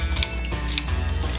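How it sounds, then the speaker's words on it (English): Two quick bursts of heat protectant spray hit hair at close range, short sharp hisses about half a second apart over a low background hum. "I'm going to spray it with some of my heat protectant."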